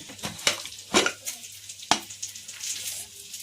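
Mutton fries and is stirred in a pan, producing a steady sizzle broken by several scraping, clattering strokes at an uneven rhythm. It is close and fairly quiet, with no talking.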